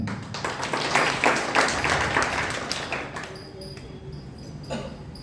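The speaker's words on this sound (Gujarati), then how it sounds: "બિરદાવીએ આપણે તાળીઓથી આ વાતને." An audience applauding at a Gujarati poetry gathering, a burst of many hands clapping close and loud for about three seconds, then thinning out to scattered claps and fading.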